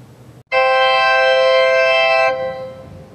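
Church organ sounding the piston 1 combination on memory level 1: one loud sustained chord held for about two seconds after a brief gap, then the upper stops drop away and a softer tone lingers.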